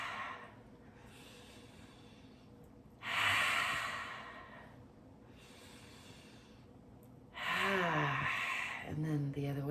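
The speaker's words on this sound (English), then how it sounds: "Let's breathe in on the way up." Slow, deep breaths during a late-night stretching routine. Long airy inhales and exhales swell and fade in turn, close and clear, with a voice speaking between the breaths.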